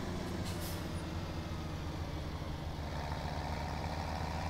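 A tractor engine in the Farming Simulator 2017 video game runs steadily under a governor without revving hard, a low, even drone at moderate volume throughout.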